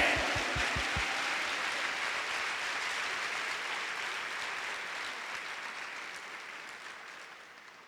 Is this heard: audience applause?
yes